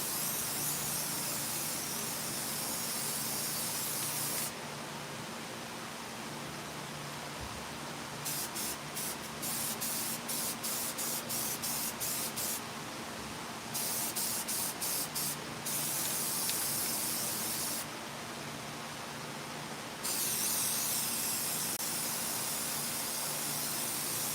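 Spray paint hissing onto a chainsaw-carved wooden piece outdoors with a fan blowing, steady broadband spray bursts starting and stopping several times, including a run of short rapid pulses, loud and close over constant fan noise.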